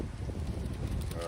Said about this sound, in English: It's so damn windy out here